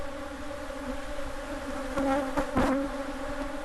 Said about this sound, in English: these bees have chased our truck for 10 miles